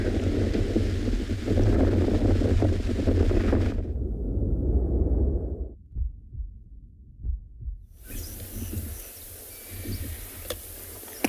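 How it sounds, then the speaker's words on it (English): Wind blowing across an open area of the andBeyond Phinda reserve in South Africa during a morning safari, loud broadband rumble and buffeting on the microphone that drops away mid-clip, leaving scattered faint gusts and knocks before the roar returns. "We are in quite an open area with quite a lot of wind also here on andBeyond Phinda"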